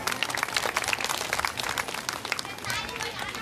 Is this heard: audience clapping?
yes